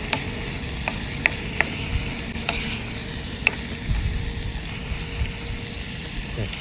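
Meat sizzles and frying in a pan on a seaside grill, Kuwaiti meqalqal-style, with steady crackle and a few sharp scrapes and clinks of a spoon stirring it; no voices.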